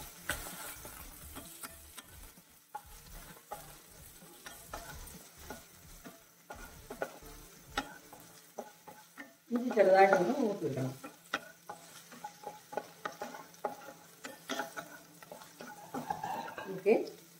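Ginger, green chilli and curry leaves hit hot oil in a pan for egg bhurji, giving a low, steady sizzle with stirring clatter and a louder burst of spitting midway, heard under occasional talk.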